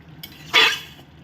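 A spoon scrapes and stirs fried mung dal into a dish in a pan, with a short, bright scraping burst after a faint clink, set against quiet background hiss.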